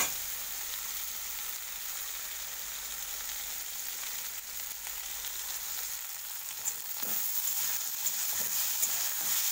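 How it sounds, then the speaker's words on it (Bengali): Okra with added turmeric fries steadily in a pan, giving a continuous soft sizzle at a moderate, even level throughout, with no voices. "এটা অনেকক্ষণ ধরে ফ্রাই করব আমি"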